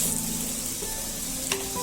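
Ghee sizzles under an aloo paratha frying on a hot pan, an even, close hiss with one small crackle and no speech.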